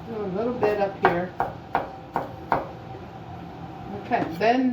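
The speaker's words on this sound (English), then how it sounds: "I'm going to continue chopping the rest of the onion" A knife chops an onion on a board in a handful of sharp, evenly spaced strikes, close by, with a voice speaking briefly before and after.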